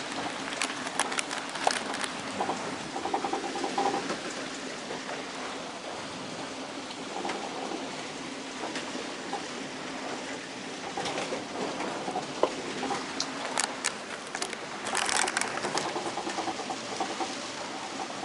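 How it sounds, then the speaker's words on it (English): Squall rain falls on a single-handed sailboat travelling from Tual, Indonesia toward Flores Island, making a steady, close hiss with crackling spatters throughout and no voices. "the rain's coming now"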